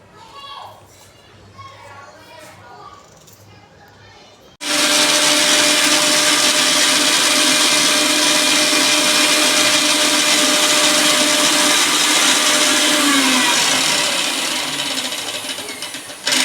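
A mixer grinder whirs loudly and steadily while blending ginger and green chili into a paste, starting abruptly after a voice speaks, then running continuously for over ten seconds before easing slightly.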